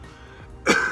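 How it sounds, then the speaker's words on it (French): A single short cough lands abruptly near the end of a quiet moment in a live talk setting. "Donc quand on tousse, on a le droit"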